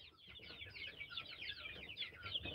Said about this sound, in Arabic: حسن ما تجريش ورا الفراخ عشان ما تنطش من على السلم